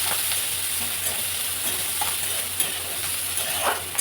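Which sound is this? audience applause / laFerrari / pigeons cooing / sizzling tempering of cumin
sizzling tempering of cumin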